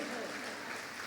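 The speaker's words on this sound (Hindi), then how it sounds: "ताली बजा दीजिए फिर" A church congregation claps together during a worship service, a dense, steady wash of applause that carries through a short stretch without a break.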